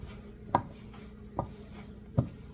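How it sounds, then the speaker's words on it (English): Three separate soft thumps ring out at an even pace as flour is worked into beer biscuit dough on a counter, close and quiet with no voices. "Just going to work all this flour in"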